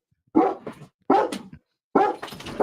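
A dog barks outside in three short, loud bursts spaced about a second apart, close and clear with no talk over it.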